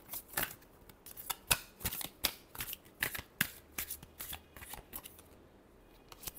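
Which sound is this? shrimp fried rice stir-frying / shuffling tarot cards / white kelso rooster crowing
shuffling tarot cards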